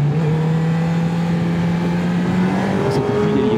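A 2021 Honda CB1000R Black Edition motorcycle accelerates while being ridden, with quick-shifter gear changes. The engine roars loud and steady, its pitch climbing smoothly, and no talk is heard over it.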